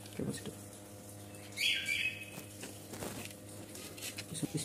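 An electric doorbell's speaker plays a short bird-chirp tone, a single bright burst lasting about half a second over a low steady electrical hum.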